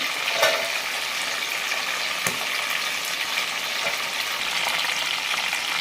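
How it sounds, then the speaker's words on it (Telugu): Green chillies and mint frying in a pan for Telangana-style stuffed eggplant curry, a steady close hiss of sizzling oil with a couple of faint stirring knocks and no talk. "తర్వాత ఒక కట్ట పుదీనా ఇక్కడ పచ్చిమిర్చి స్వెట్ అవుతుంటుందండి"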